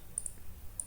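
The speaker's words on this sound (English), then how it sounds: "Click on preview, click on OK." Computer mouse clicks while working in CATIA: two quick sharp double clicks, close and faint, against a quiet background.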